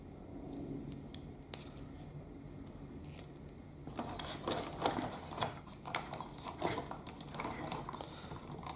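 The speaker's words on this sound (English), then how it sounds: "I'm going to take a piece of double-sided sticky tape and I'm going to cut a small length of it like so." Scissors snip through a small length of double-sided sticky tape, a few close, crisp cuts and rustles over a quiet room background with no talking.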